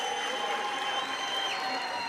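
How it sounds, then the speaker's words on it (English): Applause from the audience right after the signing at the Presidential Social Sector Summit, a dense, steady wash of clapping with crowd noise, sustained throughout at moderate level with no speech over it. "Comrades, colleagues, the signing is done. Can we have a round of applause?"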